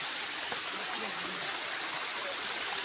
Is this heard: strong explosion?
no